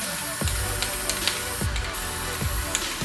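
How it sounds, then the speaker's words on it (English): Red bare-metal primer is sprayed onto a Mitsubishi 3000GT's rear bash bar in a steady, loud aerosol hiss, with a few faint knocks and clicks. "Which I would say this isn't an advisable way of spray painting, but it's working for now."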